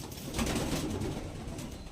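A pigeon coos softly and close by in a short burst, over a low background murmur.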